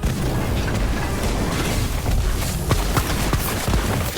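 Incendio fire spell cast in Harry Potter Magic Awakened, heard as a dense, loud rushing roar with scattered popping bursts and booms, steady across the whole few seconds.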